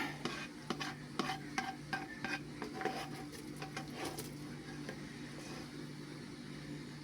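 Vegetables and beer being tipped into a big pan for Texas BBQ baked beans and stirred, with several sharp scraping clatters early on giving way to a steady low sizzle, close and moderately loud, no talking.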